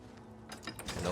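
Heavy temple door at Cloud Ruler Temple opening in an Elder Scrolls game, a short mechanical grinding and clunking slide following quiet ambience, close and moderately loud.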